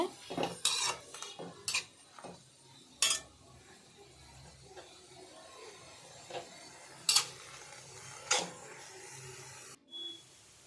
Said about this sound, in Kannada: ಈ ಸೊಪ್ಪು ಫ್ರೈ ಮಾಡ್ತಾ ಮಾಡ್ತಾ ನೀರು ಬಿಡುತ್ತೆ